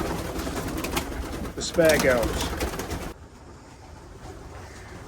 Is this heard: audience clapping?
no